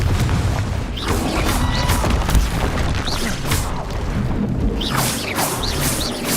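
Explosive spell blasts from the video game Hogwarts Legacy boom loudly and continuously, with repeated bursts and crashes layered over a dense, rumbling battle din. No one speaks.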